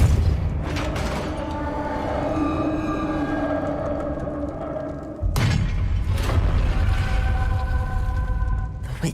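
A Depulso force spell cast in Hogwarts Legacy: a heavy boom with mechanical creaking and thuds, a sudden loud impact midway followed by rumbling stone sounds, no speech.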